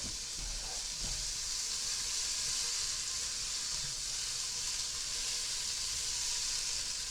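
In a pan for pickle soup, carrots and onions sauté with a steady, close sizzle and hiss. A few soft stirring knocks come near the start.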